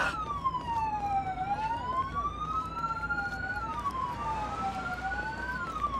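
Police car siren in the video game Police Simulator: Patrol Duty, a loud continuous wailing tone sweeping slowly up and down over steady traffic hum, with no talk.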